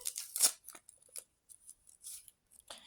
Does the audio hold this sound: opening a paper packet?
yes